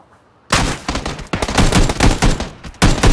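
Bursts of gunfire in a shooter video game, loud and close, with several rapid volleys of shots in quick succession after a brief quiet start.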